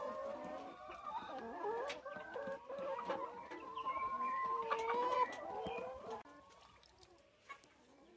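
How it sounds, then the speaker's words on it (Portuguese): Chicks peep and chickens cluck on a rural farm with laying hens, a busy overlapping chorus of high cheeps and clucks at moderate distance, fading toward the end. "Agora dá uma olhadinha aqui nesses pintinhos, o tamanho que já estão."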